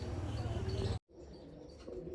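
A pigeon coos softly nearby, low repeated murmuring calls that stop abruptly, then a faint quieter bird sound resumes against light background noise.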